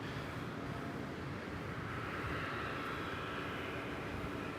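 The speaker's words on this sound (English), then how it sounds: "So this is American Airlines Flight 78. It is one of 4 daily American Airlines flights to London Heathrow." Faint, steady engine rumble from an American Airlines passenger jet bound for London Heathrow at Dallas-Fort Worth, an even distant roar with no voices over it.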